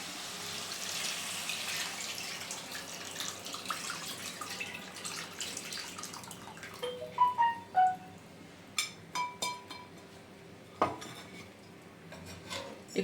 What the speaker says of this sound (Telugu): ఇందాక నానబెట్టుకున్న ఉన్న చింతపండు రసం ఇప్పుడు వేసేసుకోవాలి